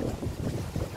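A strong easterly gale blows across the inner harbour at Flensburg on a rough fjord, causing loud, gusty rumbling wind buffeting on the microphone throughout with no speech.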